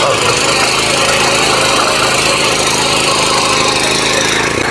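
A power weeder engine runs hard in gear on farmland, a loud, dense, constant mechanical roar with no breaks, completely filling the space.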